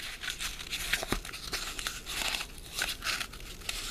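Paper being torn in half lengthwise for a cotton ball launcher science project, heard as continuous close ripping and crinkling with a few sharper crackles, no talking.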